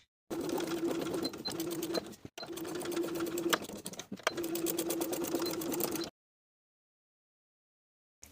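A domestic sewing machine stitches a jeans waistband in three close, rapid runs of rhythmic clatter separated by brief pauses, then falls silent.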